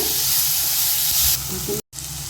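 Onion, tomato and ginger sauté in a pan for a Chettinad ginger dish, giving a steady close sizzle with a short break near the end, then the frying resumes.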